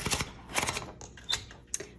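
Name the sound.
turning handle of 1956 Underwood Universal typewriter to feed paper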